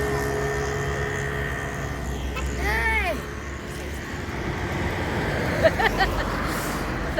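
Traffic at a roadside bus stand in Kalamboli rumbles steadily, with a vehicle passing close by partway through, then lighter road noise and a few faint clicks.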